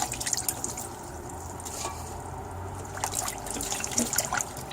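Bangpung namul, a wind-resistant herb, is rinsed in water, giving close trickling, dripping and light splashing that swells and eases as it is handled, with no talking.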